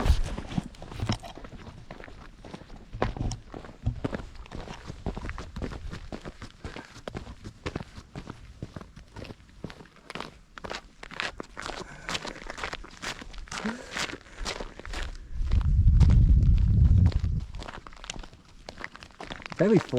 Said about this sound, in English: It's like walking on snow or something. Very crisp underfoot.